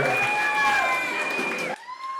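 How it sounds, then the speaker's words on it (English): Applause and cheering from a wedding crowd, a steady wash of clapping under loud sustained music that cuts off sharply near the end. "A big round of applause"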